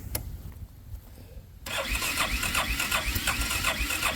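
A car engine being cranked and started on a cold morning at an off-grid cabin build: a quiet, uneven stretch, then the engine catches and settles into a steady, rhythmic idle that pulses evenly.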